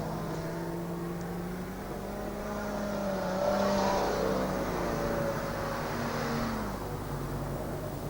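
Super sedan race cars roar around a speedway at a 1997 championship meeting, engines revving and droning continuously, swelling louder midway as the pack passes and then easing off, heard from a distance.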